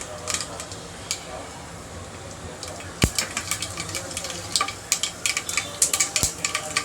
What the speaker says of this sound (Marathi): तर आपली मोहरी पण चांगली तडतडलेली आहे.